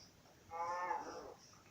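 A cow moos once in Minecraft, a clear mid-pitched bovine call of about a second that rises and then fades, heard alone against a faint steady background hiss.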